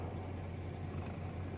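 With the clutch pedal held down, a Volvo VNL truck's clutch keeps spinning, heard as a faint, steady low mechanical hum under idling engine noise in one short, unbroken stretch.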